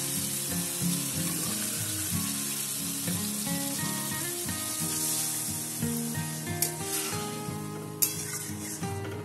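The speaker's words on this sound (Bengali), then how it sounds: "মশলাটা কষানো হয়ে গেছে দিয়ে দেবো জল" Water poured into a pan of sautéed spice masala for a Bengali chutney-style katla fish curry hisses and sizzles steadily, close and continuous beneath background music.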